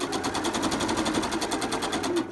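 A sewing machine runs a straight stitch through fabric with a steady, rapid mechanical chatter of evenly spaced needle strokes, close and continuous from start to end.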